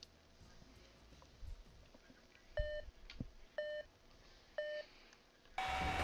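Three evenly spaced electronic buzzer beeps sound, each a short, flat tone, marking the start of a robot combat match in Robot Arena 2, followed by a sudden burst of loud noise.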